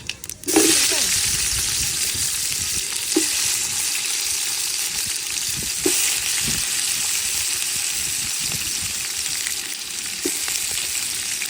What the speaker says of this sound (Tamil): வெங்காயம் பட்டை கிராம்பு எல்லாம் போட்டாச்சு நல்லா பொன்னிறமாக வதங்க வரைக்கும் வெயிட் பண்ணிக்கலாம்